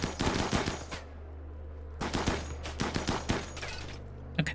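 Rapid gunfire from colonists shooting in the RimWorld video game: two dense bursts of overlapping shots, loud and close, separated by a brief lull, with a final sharp shot near the end.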